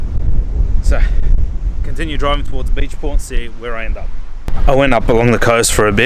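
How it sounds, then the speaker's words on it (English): Strong coastal wind buffets the microphone in a steady low roar, carrying on under a man's near, continuous talk throughout. "it's too windy so I can't stay here"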